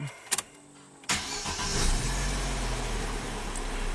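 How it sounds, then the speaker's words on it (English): An Opel Astra is switched off and restarted: a couple of clicks, a short whirring crank, then the engine catches and settles into a steady, close idle. "if we shut the car off and start it back up"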